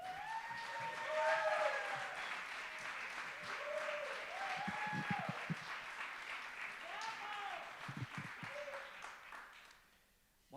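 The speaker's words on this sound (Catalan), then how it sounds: "Un aplaudiment per Magda Gregori i Jordi Borràs." An audience applauds the presenters at a photojournalism award gala. The clapping is faint and sustained beneath prominent singing or voices with rising and falling tones, then it tapers off into quiet at the end.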